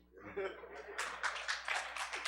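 An audience claps at a livestreamed gathering of The Way Of Yah, a short patter of scattered hand claps swelling in after a voice, moderately near and mixed with the room.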